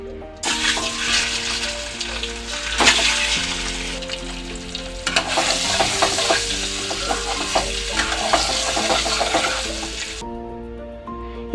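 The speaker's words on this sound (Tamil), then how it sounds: "இந்த மாதிரி நல்லா கோல்டன் கலர் ஆகுற மாதிரி ஃப்ரை பண்ணி எடுத்துக்கோங்க" Boiled eggs fried in oil on a pan for village-style egg curry, sizzling loudly and continuously with crackling pops and utensil scrapes for about ten seconds before cutting off; no talking.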